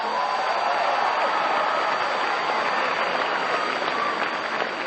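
Dense, sustained applause from a large crowd at an election night rally in 1992, steady and loud across the whole stretch with no pause and faint voices mixed in.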